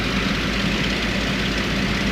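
Spitfire aircraft engine idling with a steady, heavy low rumble and broadband roar, close and continuous with no break.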